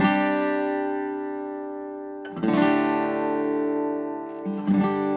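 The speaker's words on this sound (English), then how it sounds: "a lot of times the acoustic guitar part is going to sound like this" Acoustic guitar strummed in a pattern with upstrums, two ringing chord strokes a couple of seconds apart, each sustaining and slowly decaying, close and clear with no voices.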